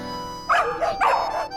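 A pet dog in a mansion gives a short burst of two or three near, yelping barks, loud and close with no talking over them.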